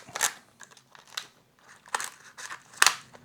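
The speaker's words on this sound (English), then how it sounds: "I will just cut that pot," Scissors snip and crunch through a plastic plant pot or cup during repotting of a Hoya, several close, sharp cuts with crackling plastic in between.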